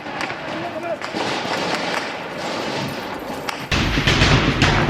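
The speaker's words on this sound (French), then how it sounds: "Coup de feu à la RTB." Gunfire rings out at the national television station in Burkina Faso during political unrest, with scattered sharp cracks and bursts at a moderate distance, heard under continuous talking.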